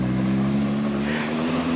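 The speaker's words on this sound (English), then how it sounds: "Mini truck!" A small mini truck drives past with a steady, loud engine drone that holds a constant pitch throughout, close by and with no voices.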